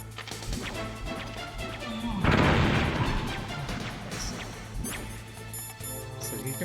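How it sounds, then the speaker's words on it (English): Grenades exploding in Metal Gear Solid on the GOG PC port, one loud crashing blast swelling and decaying over a couple of seconds amid quieter game sounds before and after. "So you can explode your nades."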